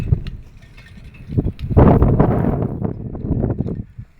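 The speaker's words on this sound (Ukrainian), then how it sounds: "Вітер завіває" Gusts of wind buffet the microphone, building from a quiet start into a loud, rumbling surge that lasts a couple of seconds before easing off.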